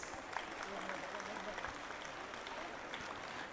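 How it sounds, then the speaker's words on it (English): Applause for the teachers rises from the audience at a school's annual function, an even, sustained wash of clapping from a large crowd, moderately loud and without pauses. "Ladies and gentlemen, I think our teachers deserve a huge round of applause."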